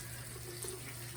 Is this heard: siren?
no